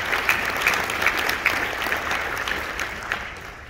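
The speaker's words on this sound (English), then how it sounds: "I just want one more round of applause for every healthcare worker" Audience applause for healthcare workers at the inauguration of the Obesity Medicine Association's president, a steady wash of clapping from a crowd lasting several seconds with a few sharper claps standing out.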